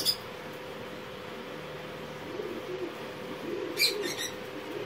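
Soft, low cooing from a female pigeon murmurs continuously in the background, with a brief higher bird chirp near the end.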